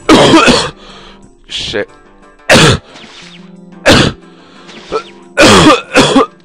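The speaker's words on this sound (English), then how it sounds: "I have a really bad cough." Several harsh, loud bursts of coughing and throat clearing come in separate fits, close to the microphone, spaced by quiet gaps, with a brief muttered word between them.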